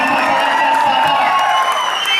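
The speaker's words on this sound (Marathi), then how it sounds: "यानंतर जोरदार टाळ्याने स्वागत करूया" A crowd at a Congress political gathering claps and cheers in a dense, continuous wash of applause and shouts, with a voice rising over it.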